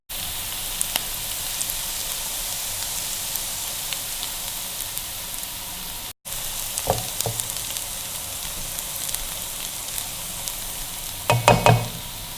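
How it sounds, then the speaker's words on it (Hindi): Onions sautéing in a pan for a chicken cheese mini bun filling, a steady close sizzle with a few scraping stirs and clinks near the end, no talk over it. "प्याज को थोड़ा सौते करके तो फिर हम इसके अंदर चिकन डालेंगे"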